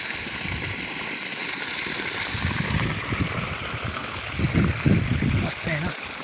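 Water runs through a dug irrigation channel along the bund at a field's edge to soak newly sown maize, a steady close gurgle with splashy bursts toward the end.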